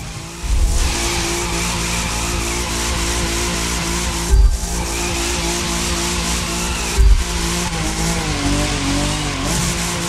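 A car drifting on tarmac at an airfield in The Crew 2 racing game: a sustained engine roar with long tire squeal, broken by two sharp bumps or thuds, loud and close throughout.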